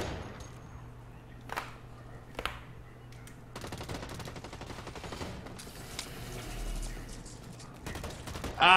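Gunfire from the first-person shooter Blacklight Retribution, rapid automatic bursts and scattered single shots running through much of the clip at moderate loudness amid game sound effects, with no talk over it.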